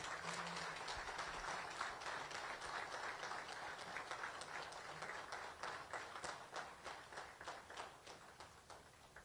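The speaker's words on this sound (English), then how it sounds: "Let's clap for the VP as he enters the room" Applause at a safety and health conference opening ceremony as a dignitary enters the room, faint distant clapping in a steady rhythm that gradually thins and fades.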